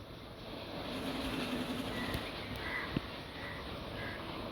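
A train ride in the video game Indian Theft Aura Simulator, a faint steady rolling of carriage wheels with a couple of sharp metallic clicks partway through.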